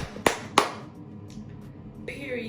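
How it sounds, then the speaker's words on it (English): Two sharp, loud hand claps in quick succession, made by one person in a hotel room on a snowed-in Lake Tahoe trip, followed by quiet room tone and a soft swish. "Should we snap or clap? I think I'm gonna clap."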